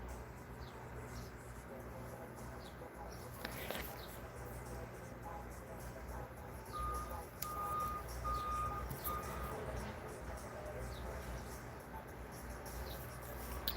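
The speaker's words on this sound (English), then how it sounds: "If you hear that beeping, it is the guys working on the house." Reversing beeps from workers' vehicles on a house job nearby: a short run of four evenly spaced tones partway through, moderately distant, over a steady background hum.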